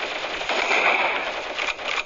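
Rapid automatic gunfire in the shooter game Sausage Man rattles in dense, loud bursts with a ringing tone over them and a brief pause partway through, with no voices.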